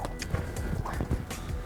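A dominant, aggressive mare kicks out during training, heard as several dull thuds and hoof strikes over shuffling movement, moderately close with no talk.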